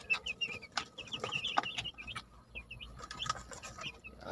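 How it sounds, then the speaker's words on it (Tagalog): Broiler chicks, young chickens, peep in repeated short high chirps from several birds close by, with quiet rustling beneath and no talk. "Mga sisiw pa lang sila"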